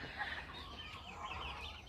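Turkeys kept on a farm give faint, low clucking and gobbling calls, quiet and somewhat distant against a soft background hum.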